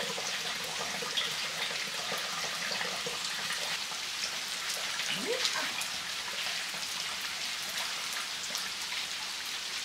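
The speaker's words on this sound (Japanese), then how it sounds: "めっちゃ雨やん。" Heavy rain falls steadily around a car parked at an unattended campsite, a dense, even hiss of drops on the roof and surroundings with no pauses, close and fairly loud.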